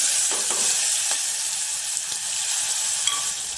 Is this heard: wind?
no